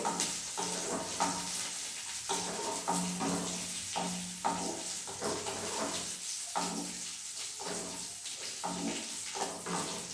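Cashews and raisins fry in hot oil in a pan while a spoon stirs them now and then, a continuous close sizzle with soft scrapes and light knocks throughout.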